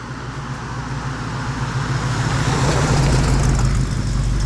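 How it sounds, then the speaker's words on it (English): A Chevrolet Chevelle wagon passes on a street in Japan, its engine a steady low rumble that swells as it draws nearer, blended into broad traffic noise with no talk. "Hear that engine, man?"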